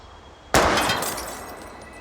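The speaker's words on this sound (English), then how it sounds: "Give me something to shoot, Max. Let's take out this wheel rim on your left." In the video game Life is Strange, a single gunshot strikes a metal wheel rim with an abrupt, loud crack that bursts out of near silence, then a bright, shattering ring slowly fades over the next second and a half.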